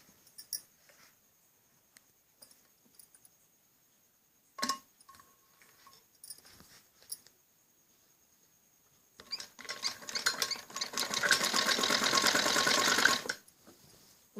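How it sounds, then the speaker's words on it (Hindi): A sewing machine stitches piping onto the neck of a kameez, starting after quiet handling noises and small clicks, then running as a steady, fast mechanical whir for about four seconds close by. "इसके ऊपर को सिलाई लगाएंगे।"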